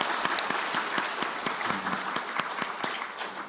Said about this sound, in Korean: 수고하셨다고 우리 성도님들 격려의 박수를 한번 보내겠습니다